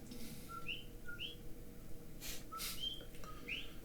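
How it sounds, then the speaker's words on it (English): Short rising whistled chirps repeat every half second or so over steady ambient noise, a tree frog's two-note call sounding bright and fairly close. "This little tree frog doesn't croak. It sings its name."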